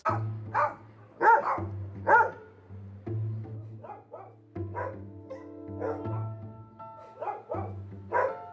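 Several big dogs bark repeatedly at close range, deep woofs overlapping with higher yips in an uneven, continuous rhythm.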